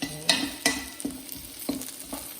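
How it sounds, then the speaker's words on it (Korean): Garlic stir-fried in a pan gives a steady close sizzle, with about five distinct scraping strokes of a utensil spaced roughly half a second apart. "잘 타지 않게 볶아주세요."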